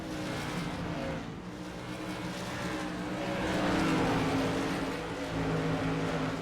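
Several race cars in a mods class season finale roar around the track, a dense layered engine drone with rising and falling pitches as cars slide and pass, loud and continuous with no talking.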